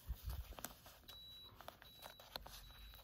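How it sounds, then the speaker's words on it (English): A steam iron's thin electronic beep repeats three times at a steady pace, quiet and high-pitched, amid soft handling clatter. "That's my iron beeping."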